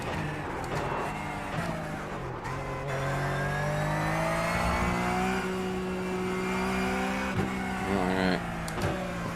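A Porsche Cup car in the iRacing sim game at the Nürburgring GP circuit, its engine pulling up through the revs as it accelerates out of a corner: a loud, steady, rising drone with brief dips at gear changes.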